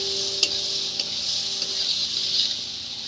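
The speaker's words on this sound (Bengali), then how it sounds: "দিয়ে এটাকে এবার নেড়ে চেড়ে নেবো বন্ধুরা" Dough mixture being stirred in a hot pan, a steady sizzling hiss with a few sharp scrapes of the spoon against the metal.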